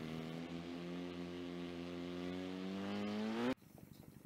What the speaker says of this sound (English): inverted flat spin. Plane rotates on its axis.